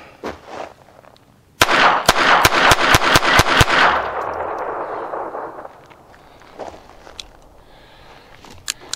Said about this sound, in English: Let's fire 8 rounds of Remington